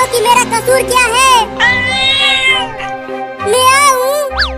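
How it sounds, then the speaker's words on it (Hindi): A cat meows repeatedly, loud and close, with drawn-out rising and falling cries separated by short pauses and a sharp final call. "मियाऊ, ये मियाऊ क्या है?"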